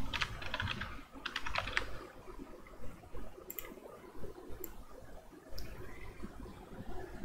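Typing on a computer keyboard, quick bursts of clicking keystrokes at close range with short pauses between runs, fairly quiet against a low background hum, no one speaking.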